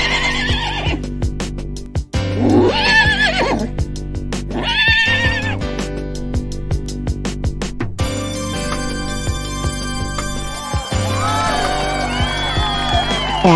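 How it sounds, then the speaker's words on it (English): Horses whinny and neigh repeatedly during an equestrian hurdle-jumping race, loud and close, over a steady musical backing with faint crowd cheering toward the end. "Get your horses, jump on hurdles, and giddy up your horses."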